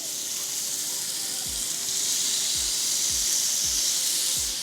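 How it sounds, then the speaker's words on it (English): Bacon slices frying in a pan at an outdoor beach cooking spot, a continuous bright hissing sizzle that swells slightly as the strips settle, with a few soft low thumps underneath. "We want to add our bacon into the pan."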